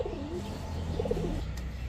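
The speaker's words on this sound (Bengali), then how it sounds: "এত সুন্দর একটা নর কবুতর" A Pakistani male pigeon with a choitthal pattern and a short beak coos steadily and close up, low rolling coos repeating over a continuous background hum.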